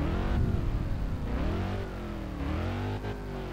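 A deep 7-litre V8 Hemi car engine in the racing game Test Drive Unlimited 2 revs up and down with rising and falling pitch sweeps, loud and close, steady throaty roar throughout.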